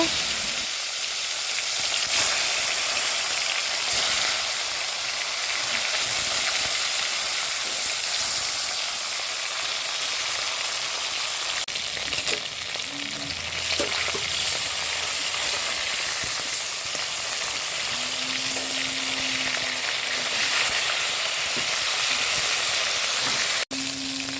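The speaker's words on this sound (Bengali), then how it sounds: "আমি গরম তেলের মধ্যে মাছগুলো ভেজে নেব" Fish sizzles and spits in hot oil, a constant crackling hiss over the whole stretch with occasional faint clinks.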